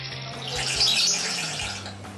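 A parrot mimics running tap water, a steady hissing, splashing rush that holds for about two seconds with no talking.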